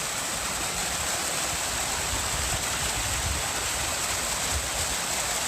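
Fresh water rushes steadily in a stream beside the Pacific Crest Trail, a dense, continuous, close-up roar with no voices.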